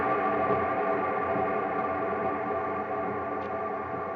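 An electric guitar plays through dual Marshall amps with a mash effect, giving a dense, saturated, steady wall of tone that holds loud and even for about four seconds, with no voice.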